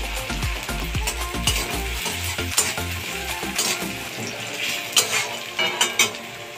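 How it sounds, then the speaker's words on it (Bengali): Chopped onions sizzle in a pan for suji upma, stirred with a spatula that scrapes and clinks against the metal in quick irregular strokes, close and fairly quiet, with no talk. "পেঁয়াজটাকে লাল করে ভেজে নিতে হবে।"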